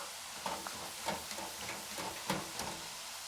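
Steak fries crackle and sizzle in hot shallow oil inside a tabletop fryer, a steady frying hiss punctuated by soft popping bubbles, close and moderately loud with no talk.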